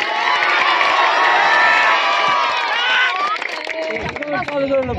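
A crowd at a tennis-ball cricket match in Bihar cheers and shouts loudly and continuously, with excited voices rising over the din before it breaks into scattered calls.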